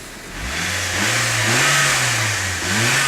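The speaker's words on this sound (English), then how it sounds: "Engine sounds absolutely sweet." A Nissan Micra S three-door with a 1.0-litre engine runs close by, its steady idle lifting into smooth revs that rise, dip and climb again, with no talking.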